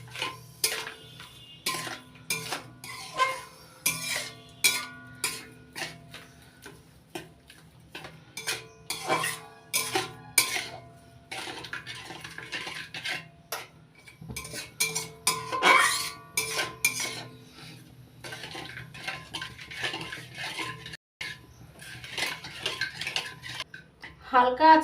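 A utensil stirs a milk filling in a pan over low heat for a mango patishapta, producing repeated scraping and clinking of metal on the pan in uneven bursts, close and fairly quiet, with brief pauses.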